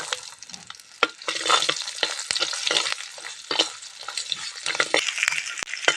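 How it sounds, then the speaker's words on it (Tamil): Onions sautéing with curry leaves in a pan for Tamil puliyodharai, a steady close sizzle broken by frequent scraping stirs, with no talking. "வெங்காயம் போட்டு வதக்கலாம்."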